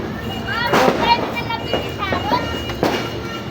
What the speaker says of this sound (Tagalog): Konti na lang paputok.